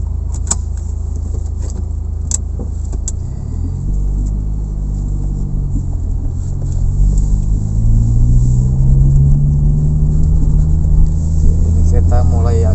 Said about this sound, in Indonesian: kita sekarang coba test drive mobil ini